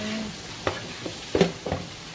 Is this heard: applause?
no